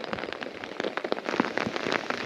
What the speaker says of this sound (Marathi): तुम्हाला आवाज येत असेल खूप जास्त पाऊस पडतो